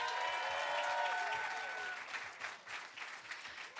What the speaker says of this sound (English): Let's give these fellas a round of applause, please